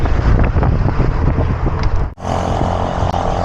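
Strong wind buffets a cyclist's microphone on a road ride, a loud rumbling gusty roar that drops out briefly and then resumes.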